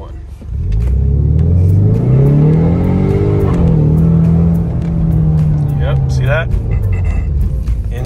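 A 2019 Ford Mustang EcoBoost Premium accelerates hard from inside the cabin, its engine surging loud and rising in pitch through a gear, with someone talking over it.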